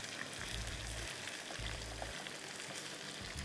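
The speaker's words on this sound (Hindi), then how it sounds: "अच्छा, अब हमारी चिकन फ्राई हो रही है।" Chicken frying in oil for Balochi karahi gives a steady, dense sizzle with a constant crackling hiss, close by and unbroken, with no talking.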